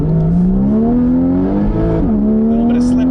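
A Porsche 981 Cayman GTS accelerates on a cold road with tires slipping, its engine note rising steadily in one close, loud, continuous pull with a brief dip near the end.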